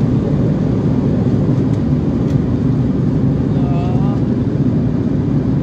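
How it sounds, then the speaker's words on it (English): A steady, loud broadband roar fills a passenger airplane cabin in flight on the way to Washington, D.C., an unbroken engine and air rush with no voices. "So now we're just in the airplane."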